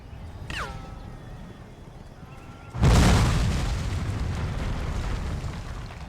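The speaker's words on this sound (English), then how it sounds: "I'm being shot at." A loud blast from a Civil War video game erupts about halfway in, then a sustained rumbling roar carries on after it. A brief squealing tone sounds near the start.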